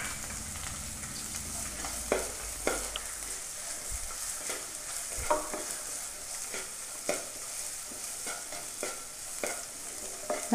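Sliced onion and curry leaves sauté in a pan for potato bonda filling, a steady low sizzle broken by regular scraping stirs, close and moderately quiet.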